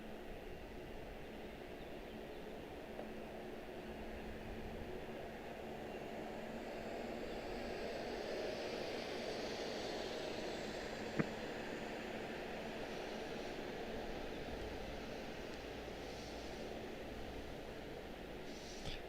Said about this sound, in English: Boeing 777, 2 mile final.